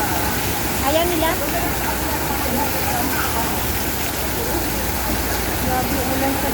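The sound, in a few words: heavy rain outside in Hong Kong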